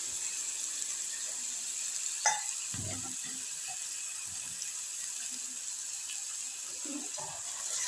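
Water added to a potato stir-fry (poriyal) in a pan on a home stove, a faint soft hiss and sizzle with a couple of brief splashy clinks over a quiet background.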